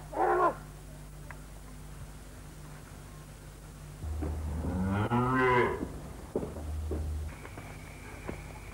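Cattle mooing in a 1982 Indonesian TV drama, one clear drawn-out moo in the middle with a short call at the start, set over a steady low hum and faint background.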